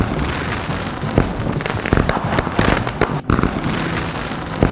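Dense, continuous crackle of firecrackers and fireworks at a Tamil village temple festival, with sharp bangs scattered through a steady roar of popping, loud and close.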